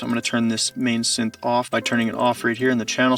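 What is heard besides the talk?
No distinct noise like a dog, phone or traffic.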